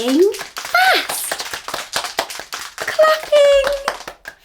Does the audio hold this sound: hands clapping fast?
yes